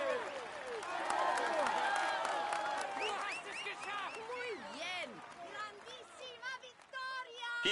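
A crowd at a cycling stage podium applauds and cheers a rider receiving his jersey, steady clapping swelling early then thinning and fading, with bursts of cheering.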